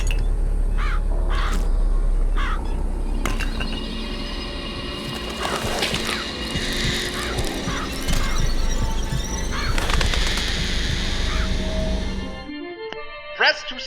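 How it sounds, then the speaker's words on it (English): Crows summoned by the murder of crows vigor in Bioshock Infinite caw and flap over game music and whooshing effects, a layered, busy burst that cuts off suddenly near the end. "Press to summon murderous crows."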